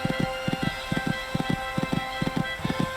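Horses galloping in the Equestriad 2001 video game at Burghley Horse Trials, a brisk, loud, regular clip-clop of hooves in quick grouped beats, with steady ambient noise behind.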